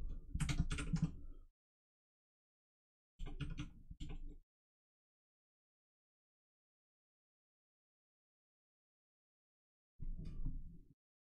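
Typing on a computer keyboard, in three short bursts of quick keystrokes separated by long silences, quiet and close.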